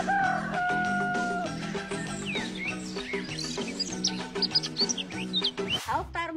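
Chickens cluck while a rooster crows, the calls close and fairly clear over a dense, busy background sound that runs steadily throughout.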